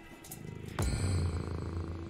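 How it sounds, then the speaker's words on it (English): Cat purring in the video game Turnip Boy Commits Tax Evasion, a low steady rumble that swells louder partway through and continues over faint game background tones, with no talking. "Cat."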